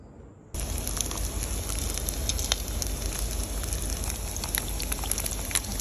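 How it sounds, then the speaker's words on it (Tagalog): Chicken skin fries in hot oil, a dense, steady crackling sizzle that starts abruptly and keeps up without a break, with scattered sharper pops, heard up close. "yan na ang chicken raw natin prito na chicken skin"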